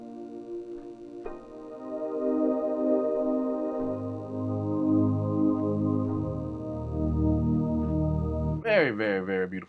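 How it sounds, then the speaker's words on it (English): A warm synthesizer pad holds slow sustained chords with a deep low layer entering partway, ending in a brief wavering tone. "Very, very, very beautiful pad."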